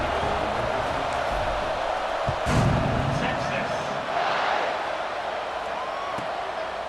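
A stadium crowd in the EA Sports College Football 26 video game roars steadily before a kickoff, a loud, dense wash of cheering that swells briefly midway and holds at a constant level throughout.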